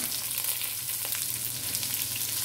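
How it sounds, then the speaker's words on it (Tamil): Chopped onion dropped into hot oil with dried chilli and curry leaves for a purple cabbage poriyal, giving a steady, loud, continuous sizzle close by with no voices. "கட் பண்ணி வச்சுருக்க வெங்காயம் சேர்த்துக்கலாம்."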